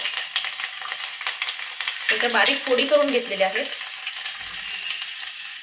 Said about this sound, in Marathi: छान मस्त फोडणी बसलेली आहे.